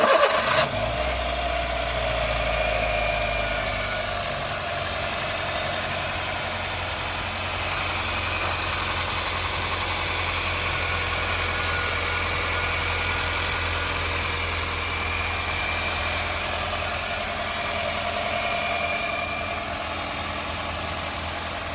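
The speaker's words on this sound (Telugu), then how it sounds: "సో ఇప్పుడైతే ఒకసారి స్టార్ట్ చేస్తారు, సౌండ్ చూడండి ఎలా ఉంది ఏంటన్నది." A Honda City petrol car engine cranks and starts with a brief burst, then settles into a steady, even idle hum that continues alone for about twenty seconds.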